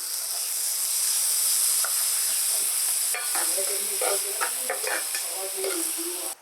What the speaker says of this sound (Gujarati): મસાલા અને મેથી બંને શેકાવા લાગ્યા છે એટલે હવે આપણે થોડું દહીં એડ કરી દઈશું.